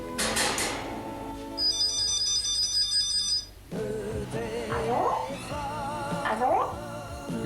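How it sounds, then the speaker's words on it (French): A telephone ringing in a French home, with a steady electronic ring tone near the start and animal-like vocal sounds and a voice following after it. "Le téléphone pleure"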